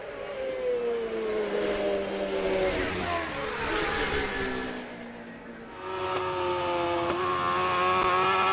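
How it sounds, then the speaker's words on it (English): Superbike racing motorcycles lapping the Macau Grand Prix street circuit during free practice, engines screaming and shifting pitch as bikes pass, fading briefly then another loud high-revving machine approaching close, with no talk. "Peter Hickman, Rob Hodson, Erno Cosmo, all with superbikes"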